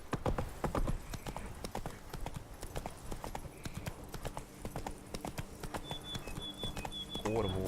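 Roach the horse gallops in The Witcher 3: Wild Hunt, with rapid rhythmic clip-clop hoofbeats, a brief neigh near the end, and a voice talking over the hooves.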